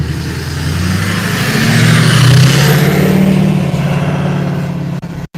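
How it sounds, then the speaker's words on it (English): A nitrogen tanker truck drives past on a road near the SpaceX Starbase main gate in Boca Chica, Texas, its loud engine rumble swelling as it nears and fading away, with a sharp buffeting at the end. "Nitrogen, everybody. That was a nitrogen tanker."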